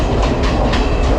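Night train in Sri Lanka rattling along the rails, loud and close, with a quick rhythmic clickety-clack of wheel beats repeating over a constant rumbling roar.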